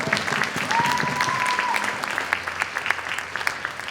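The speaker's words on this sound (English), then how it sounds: "So we should give them another round of applause for that." Audience at a winter carnival queen's pageant applauds with steady, dense clapping that starts loud and slowly thins out over several seconds, with a faint voice briefly heard over it.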